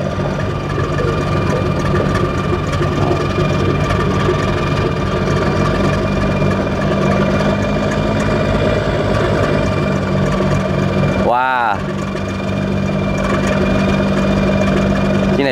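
A boat engine idles in a Vietnamese port, a loud, steady low rumble with constant vibration throughout, briefly dipping once before resuming.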